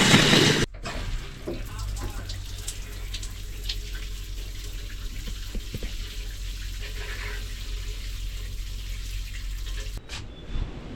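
A tap in a cabin with a rainwater system runs steadily as a constant close splashing hiss, starting and stopping abruptly at both ends, with no talking.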